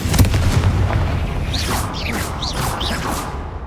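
Confringo blasting spells firing in Hogwarts Legacy, heard as a quick series of whooshing bursts and booms close together, each with a sharp swishing tail.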